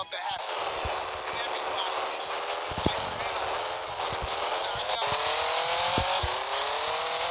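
Car engine from a Miami simulator driving game, a steady droning hum that rises in pitch in stages as the car accelerates, with a few sharp clicks on top and no pauses.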